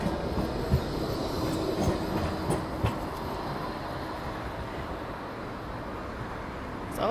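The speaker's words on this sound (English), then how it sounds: "that sounds like a tram" A steady, heavy rumble of a tram rolling past on rails at Blackpool Central Pier, with faint clacking and occasional metallic squeals over the continuous low roar.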